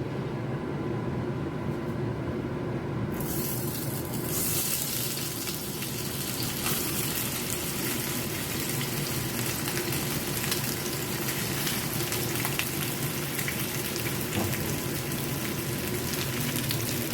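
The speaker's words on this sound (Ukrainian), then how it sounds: "І так сковорідка нагрілась, буду висипати картоплю." Steady broadband sizzling of potatoes frying in a hot pan, continuous and fairly loud, with a brighter hiss swelling in after a few seconds.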